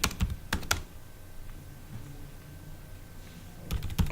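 Someone types a feedback comment on a computer keyboard, with a quick cluster of key clicks at the start, a quiet pause, then another brisk run of keystrokes at the end.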